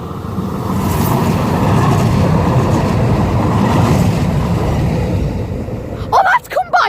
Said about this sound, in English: watch an airport train come flying past.